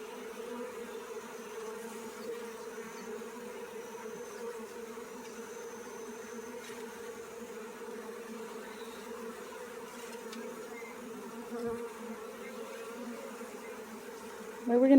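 A wild bee swarm being re-homed in Hawai'i buzzes continuously, a steady low hum of many bees close by, holding level throughout.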